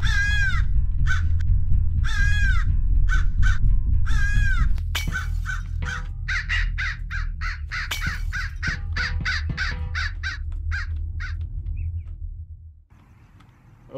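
A crow in the Hello Neighbor video game caws loudly and repeatedly in steady, evenly spaced harsh calls over a low rumbling background, the calls continuing densely for most of the stretch before stopping near the end.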